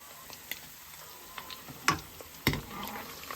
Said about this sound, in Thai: นี่ก็คือไส้กรอกเล็กนะคะนี่คือเดี๋ยวนกจะไปทอดนะคะ